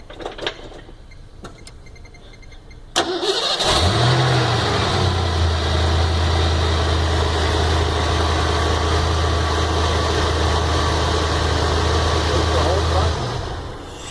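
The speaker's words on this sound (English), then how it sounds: "We're going to start the vehicle." A vehicle's engine cranks and catches at close range, then settles into a steady, loud idle for about ten seconds before being switched off; a few clicks come before the start.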